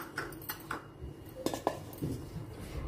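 Chili powder is mixed into fish curry in a clay vessel, a quiet series of scraping stirs and light clinks of a spoon against the pot, irregular and close.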